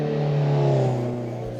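A turbocharged Toyota MR2 engine in a VR touge racing game pulls hard at steady high revs, its droning harmonic whine gliding slightly down in pitch and then easing, alone with no voices.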